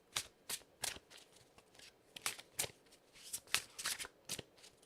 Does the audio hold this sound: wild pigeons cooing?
no